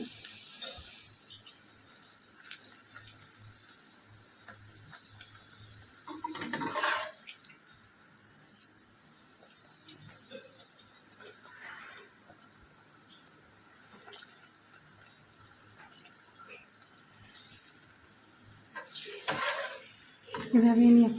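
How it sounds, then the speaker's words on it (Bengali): Luchi, a puffed flatbread, frying one at a time in hot oil in a wok, giving a steady close hiss of sizzling with a couple of louder bubbling surges and a brief clatter near the end. "এবার আমি এগুলোকে ভেজে নেব।"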